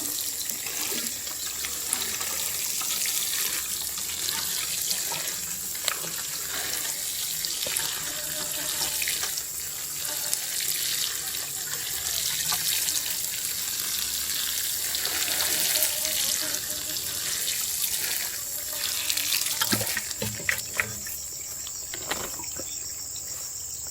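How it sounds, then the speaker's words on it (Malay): Water runs steadily from a hose or tap while a young fruit tree seedling is watered in hot weather, a continuous hiss and splash heard outdoors, with insects chirping faintly in the background. "Cuaca panas yang dia perlukan air, siram supaya menyerap."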